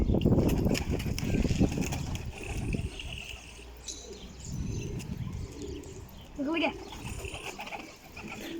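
Pigeons cooing and chirping nearby, with some soft tweets, mixed with background talking and faint mechanical rustling.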